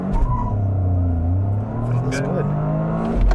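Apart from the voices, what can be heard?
Toyota GR Corolla revving and aggressive launch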